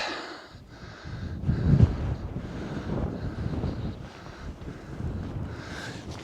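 Wind gusting outdoors on a rocky hillside, buffeting the microphone in a steady rumbling roar that swells to a strong gust, then keeps blowing with no one talking.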